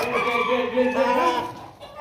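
A rooster gives a harsh, agitated run of clucks and throaty calls, close and fairly loud, continuing steadily before tapering off near the end.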